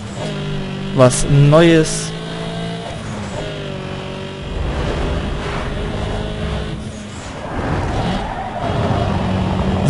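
An Audi A3 driving in the racing video game Need for Speed Underground 2, its engine droning with rising gear-like revs, while someone speaks German over it.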